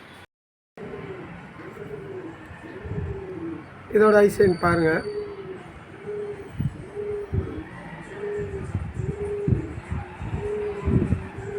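Domestic pigeons cooing in a repeated, rhythmic series of low throaty calls close by, while someone talks over them in the middle of the stretch.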